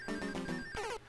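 A telephone ring in the game Super Mario Maker, loud and electronic: a quick run of four short trilling pulses followed by one longer warbling burst, then it stops.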